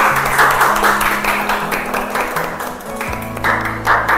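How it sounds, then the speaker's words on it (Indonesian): Schoolchildren in an elementary classroom applaud together, a steady wash of many small hands clapping at close range for several seconds, with faint tonal background sound underneath. "Kita berikan tepuk tangan lagi"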